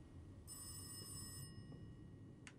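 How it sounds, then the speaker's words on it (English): A telephone rings inside the horror video game Rise of Insanity 4, giving one bright electronic ring burst of about a second that sounds distant and faint against a quiet ambient hum, with no talking. "I hear a phone somewhere around here."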